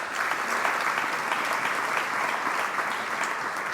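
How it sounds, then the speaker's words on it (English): Steady audience applause at a 50th anniversary philanthropy celebration, a dense wash of many hands clapping at even loudness throughout, with no talk over it. "Give yourselves a round of applause for that."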